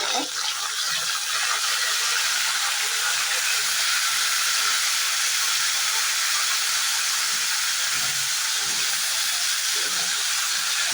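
A whole fish head frying in hot oil, alongside whole dried garlic, in a Bengali home kitchen gives off a steady, loud, close sizzling hiss that fills the whole span, with faint low clatter beneath.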